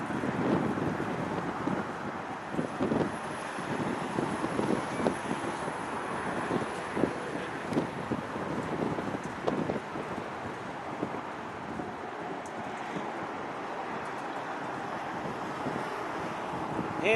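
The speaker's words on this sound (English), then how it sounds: "Handheld with a stiff wind coming in from behind me is not fun." A stiff wind buffets a handheld microphone in gusty, uneven rumbling bursts that last the whole stretch, loud and close, with no voices. The setting is outdoors at a plane-spotting spot near O'Hare airport in Chicago.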